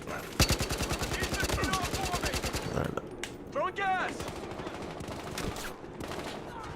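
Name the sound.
gunfire in the video game Battlefield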